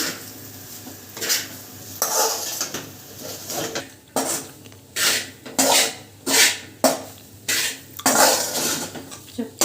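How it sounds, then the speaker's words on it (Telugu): Ghee frying in a pan on low flame while making motichoor laddu, heard as repeated scraping and stirring strokes of a spatula against the pan, in uneven bursts with faint sizzle underneath. "నీట్గా ఫ్రై చేసేసుకోవాలి నెయ్యిలో మనకి మంచిగా ఫ్రై అయిపోయి ఇదంతా మంచి బ్రౌనిష్ కలర్లో రావాలండి"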